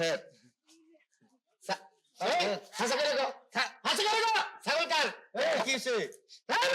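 A goat bleats in a few short wavering calls mixed with people talking nearby, with brief clattering knocks early on.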